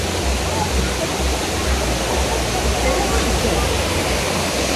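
Rushing water at a waterfall in Lerik, Azerbaijan, a steady loud broadband roar that fills the whole clip without a break, close to the mic, with a low hum underneath.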